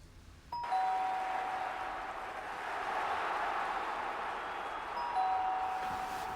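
A doorbell rings twice, each a clear two-tone ding-dong about five seconds apart, over a steady room hiss with no talking.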